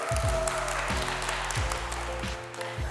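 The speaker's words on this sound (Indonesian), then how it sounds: "tepuk tangan dulu untuk tim cowok deh" Applause for the boys' team at a game show, heard under a loud, rhythmic music bed with a repeating bass beat that largely masks the clapping.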